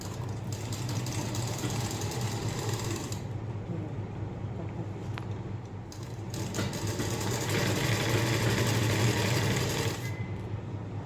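A sewing machine stitches a blouse close beside a dart, humming steadily and close throughout with a slight rise in pace near the end, no voices present.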